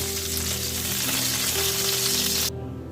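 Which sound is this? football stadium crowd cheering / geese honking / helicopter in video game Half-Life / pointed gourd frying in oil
pointed gourd frying in oil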